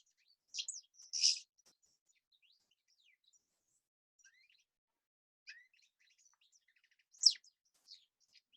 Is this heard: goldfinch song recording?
yes